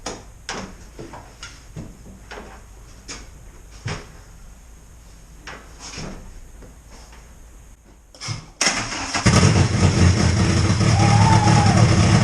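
A VW Golf MK2/MK3 hybrid with a swapped-in ABA engine cranks and fires after several seconds of scattered clunks and clicks, then runs loud and steady, close by, to the end.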